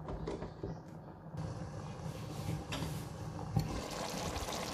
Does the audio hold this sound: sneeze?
no